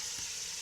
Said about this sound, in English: So I've added my fresh pepper to the pot.